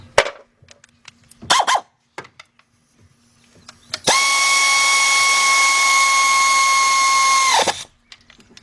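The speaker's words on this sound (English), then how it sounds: "13mm deep socket, 3/8 drive" Power tool whirring on a Cadillac water pump job, preceded by a couple of short clicks and rattles, then a loud steady high whine lasting about three and a half seconds before cutting off abruptly.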